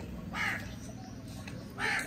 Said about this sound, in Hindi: प्यासा कौवा आया हुआ है पानी पीने।